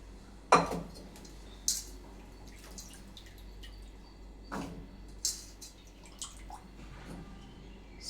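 Lentils being rinsed in water in a pot by hand, with sporadic sharp clinks and sloshing splashes spaced a few seconds apart, fairly close and quiet against a low background hum.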